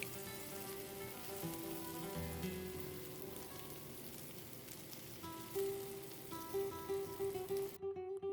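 Green beans and brown button mushrooms sizzle steadily in a pan of vegan paella vegetables, with a continuous crackling fry, occasional stirring clatter and a brief quieter moment near the end.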